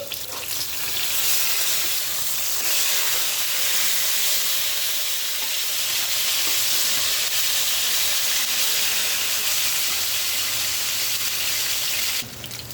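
Rohu fish frying in a pan of hot oil, a loud, continuous hissing sizzle with fine crackle that holds steady from start to finish, close and alone.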